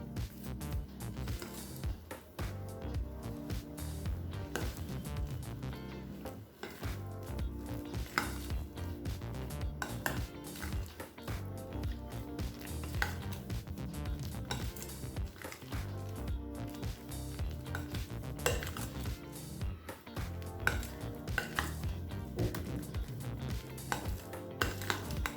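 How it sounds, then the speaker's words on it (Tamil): Urad dal bonda batter mixed with rice flour, coriander, curry leaves and salt gets worked by hand or spoon in a bowl. The squishing and stirring is soft, continuous and close, with occasional clinks of the bowl, and no voices. "இப்போ இது எல்லாத்தையும் நல்லா மிக்ஸ் பண்ணிக்கலாங்க"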